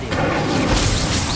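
Incendio fire spell cast in Hogwarts Legacy on PS5, a loud, dense whooshing burst of flame that fills the moment without a break.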